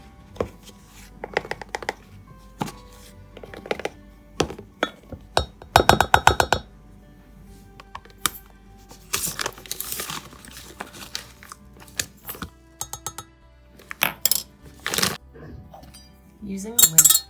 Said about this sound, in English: So into this measuring cup, I'm going to put about half a cup of cocoa and 2 tablespoons of sugar.